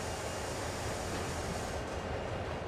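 Rolling freight wagons being coupled in the train simulator Train Sim World, a steady loud rumble of wheels on rails that fills the whole stretch with no breaks.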